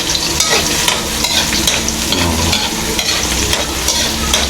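Ginger and onion fry in hot oil in a pan for cooking Indian carp, a loud, close and steady sizzle with light crackling and occasional scrapes of stirring.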